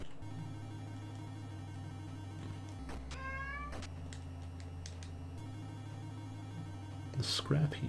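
A cat meows once, fairly clear, over a steady low electronic hum and game-like background tones, with a brief clatter near the end.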